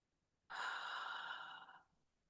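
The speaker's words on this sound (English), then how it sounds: "So I want you to take a slow, deep breath in right now." A single slow, deep breath drawn in and let out, close and clear, lasting over a second in a quiet room with no talking.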